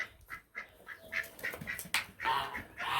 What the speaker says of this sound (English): I have a goose.